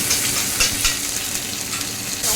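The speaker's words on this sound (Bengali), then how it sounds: "এবার রসুনটা টমেটোটা একটু ভাজা হোক" Garlic and tomato frying in a pan, a steady close hiss of sizzling oil with faint crackles, and no voices.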